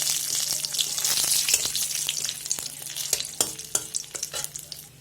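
Bay leaves, cinnamon and raisins fry in hot oil in a kadai, a loud crackling sizzle with sharp pops and spatula scrapes that grow sparser toward the end, with no talk.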